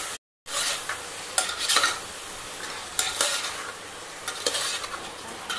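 Ginger paste and chili fry in a pan with a loud, bright, crackling sizzle that carries on throughout, punctuated by several stirring scrapes and spoon taps after a brief cut-out at the start.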